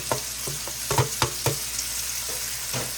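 Seasoned fries with minced garlic frying on high heat, a constant crackling sizzle broken by a cluster of sharp utensil taps and scrapes early on, then steadier frying with a few later knocks.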